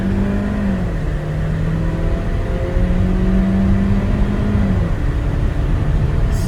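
A 2011 Saab 9-3 2.0T turbo pulling hard at full throttle, heard from inside the cabin as a loud, steady engine drone that shifts pitch once partway through, with no talk.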